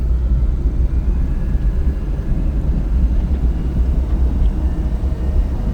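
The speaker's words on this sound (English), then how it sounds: "and you can hear that turbo" Steady, loud engine drone from a Daihatsu turbo van while driving, a continuous low rumble with road and wind noise throughout and no distinct turbo whistle standing out.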